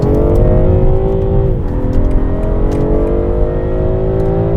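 A BMW M340i engine revs loudly from inside the car, a dense droning roar that rises in pitch, dips briefly and then climbs again steadily.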